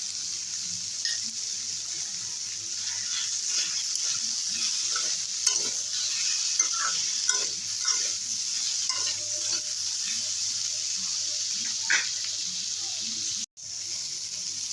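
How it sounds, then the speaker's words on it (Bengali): Mixed vegetables frying in a pan for a village-style fish curry, stirred steadily with ginger paste: a constant close sizzle with repeated scraping stir strokes throughout, and a brief drop in the sizzle near the end. "সবজিগুলো ভাজা হয়ে গেছে দিয়ে দেবো আদা বাটা"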